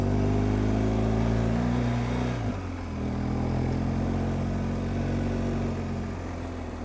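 A motorcycle grinds up a steep pass in first gear, its engine note loud and close, holding a strained pitch, then dropping briefly as the load changes before settling into a steady labouring drone.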